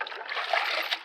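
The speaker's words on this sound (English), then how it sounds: "we're going to wash it off in good old rainwater" Rainwater splashes and trickles while an old metal trap is washed off, a continuous close wet spattering with small bursts, no voices.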